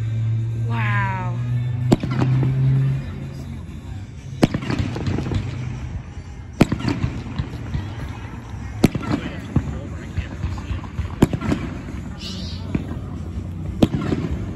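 Sharp Fourth of July fireworks bangs pop every couple of seconds over a background of talking, with a cat meowing near the start.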